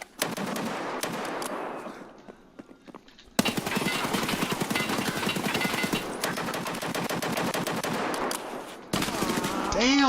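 Bursts of rapid automatic gunfire in a first-person shooter video game, loud and dense, with short pauses between volleys and a quiet stretch early on.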